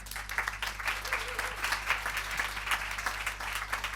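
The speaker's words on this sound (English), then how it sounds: "big applause to Rupa Organization and the whole Women in Tech Switzerland, please" Audience at a women-in-technology panel event claps steadily for four seconds, moderately loud, over a low constant hum.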